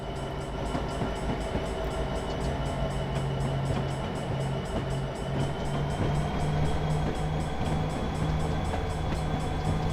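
A Norfolk Southern freight train with a GP60 locomotive rolls steadily past in Train Simulator 2019, a continuous loud rumble of wagons and rail noise with a sustained low engine drone throughout.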